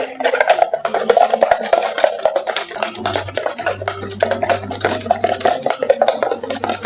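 Isan-style beef salad is mixed with fish sauce, seasoning powder, chili flakes and toasted rice, giving a continuous close wet rustling and scraping in a bowl, with a low hum joining partway through.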